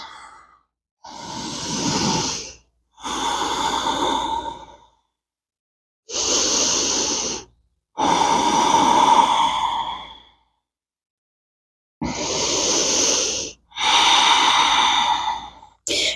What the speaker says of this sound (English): Just breathing here, maybe swaying from side to side.